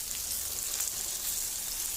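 Stuffed okra with a light sprinkle of oil sizzles in a pan over a slow flame, a steady close crackle and hiss throughout.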